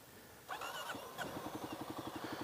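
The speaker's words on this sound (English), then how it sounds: "So watch, I let it out, no gas. It dies right there." A Kawasaki KLX300 dirt bike engine runs, then chugs in a rhythmic, slowing putter as the clutch is let out without throttle, close and fairly quiet, with no talking.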